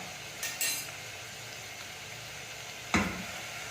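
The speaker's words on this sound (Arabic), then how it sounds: "نقليهم شويه، نزيد نضيف عليهم ملعقه اكل طماطم مصبره" Garlic cloves and tomato paste frying in a pan for a spicy tripe dish, a steady soft sizzle running throughout with two brief clinks near the start and a louder scrape or stir near the end.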